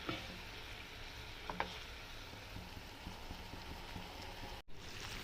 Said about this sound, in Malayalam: ഗ്രേവി തിളച്ച് തുടങ്ങിയിട്ടുണ്ട്